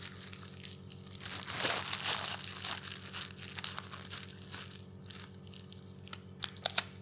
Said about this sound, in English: Pull the paper away and your probe will be in your pen.